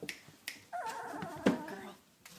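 Two-week-old British Labrador puppies make soft whimpers and squeaky whines, a few short cries and one longer, louder whine, close by with faint taps between them.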